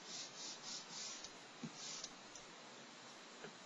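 Distress ink in antique linen rubbed onto a gingerbread house, a soft close dry rasping in short repeated strokes, quiet with brief pauses.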